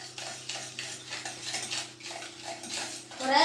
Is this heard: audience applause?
no